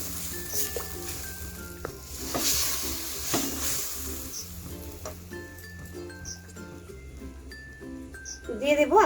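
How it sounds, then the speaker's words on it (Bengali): Fried onions and bread being stirred in a pan for a Bengali snail curry with taro and spinach, soft scraping and sizzle under background music. "এখন নাড়িয়ে চালিয়ে খুব ভালোভাবে মিশিয়ে নেব।"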